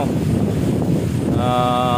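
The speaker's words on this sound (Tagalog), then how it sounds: "malakas na hangin." Strong wind from Typhoon Odette (signal number 3) on Pitogo island, Bohol, buffets the microphone in a continuous low roar, with a whistling tonal hum rising near the end.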